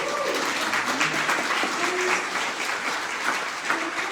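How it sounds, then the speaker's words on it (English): An in-person audience at the Serve Indiana Awards for Excellence gives a sustained round of applause, thick overlapping clapping that fills the room evenly, with faint voices mixed underneath. "let's give a round of applause for that"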